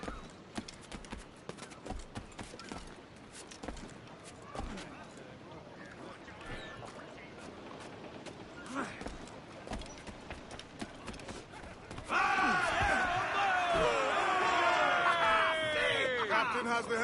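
Wild horses galloping in the video game Assassin's Creed Black Flag, a rapid run of hoof clip-clops over ambient game sound, louder and busier in the final seconds as other effects swell in.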